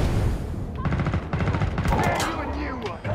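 Rapid automatic gunfire in the Killing Floor 2 shooter game during a boss fight, dense repeated bursts over about three seconds with game effects mixed in, loud and close.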